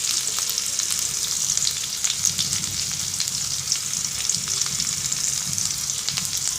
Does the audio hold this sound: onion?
yes